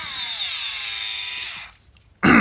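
A RYOBI rotary tool runs at a high, loud whine, then its pitch sinks as it slows and stops, and after a brief silence it abruptly starts up again at full speed.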